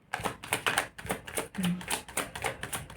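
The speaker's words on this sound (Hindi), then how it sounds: "शफल करते करते कार्ड्स किस तरीके से आते हैं, प्रकट कैसे होते हैं, कार्ड जैसे उछल के कैसे आ जाता है" Tarot cards shuffled by hand, a rapid run of crisp flicking and tapping bursts in a quick irregular rhythm, close and fairly soft.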